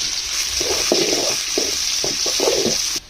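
Chopped onion frying in oil in a wok, with a steady sizzle under a few short stirring scrapes, close and moderately loud.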